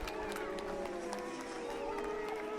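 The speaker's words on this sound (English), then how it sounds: "And a huge response from this crowd." A crowd at the finish of a Pro Sport Bike motorcycle race roars and cheers with a distant wash of applause, while a commentator talks over it.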